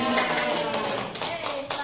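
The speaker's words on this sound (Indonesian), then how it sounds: "Tepuk tangan dulu untuk Ibu Guru agama." Steady applause fills a school gathering as people clap for a religion teacher, a dense even patter of many hands that runs on without a break.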